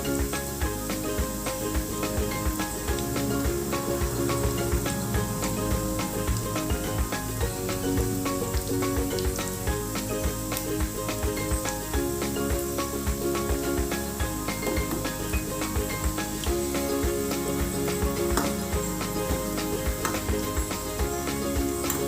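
Kalkal sweets, just turned over, fry in oil on medium heat with a continuous, even hiss and faint bubbling that holds steady throughout at moderate loudness.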